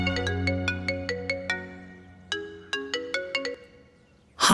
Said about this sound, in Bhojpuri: हम अभी छगन भैया के फोन करतानी।